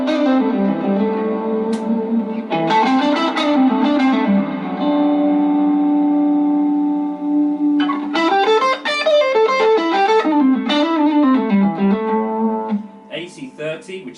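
Electric guitar through a Vox Mini GO 10 amp's Boutique OD model playing a lively melodic run with sustained notes, loud and up front with a warm, slightly gritty overdriven tone and a short pause near the end.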